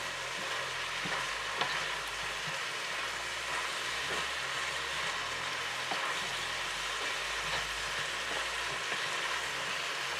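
Pinakbet vegetables, including eggplant, sizzle and fry in a pan while being stirred, a dense, steady crackle with soft scraping and clicking of the utensil, fairly close and uninterrupted.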